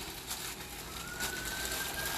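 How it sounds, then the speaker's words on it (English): A siren wails faintly in the distance, one rising tone drifting over a hushed outdoor background. "Can you hear the sirens?"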